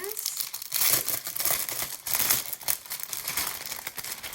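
Crinkly plastic packaging around Cookies for Kringle scrapbook paper is pulled open, giving bursts of close crackling and tearing that run almost continuously.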